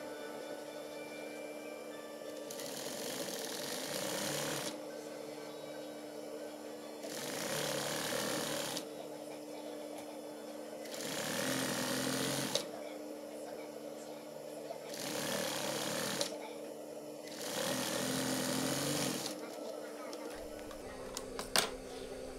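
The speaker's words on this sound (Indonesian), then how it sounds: "Langsung saya jahit seperti ini." A sewing machine stitches batik shirt fabric in about five bursts of rapid mechanical whirring and ticking, each a couple of seconds long and separated by short quiet gaps, close up and moderately loud.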